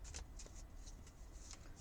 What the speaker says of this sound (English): let's have a shuffle of the New Mythic Tarot